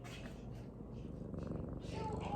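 A domestic cat purrs close by, a soft continuous rumble that swells slightly toward the end, with a person's voice talking quietly over it.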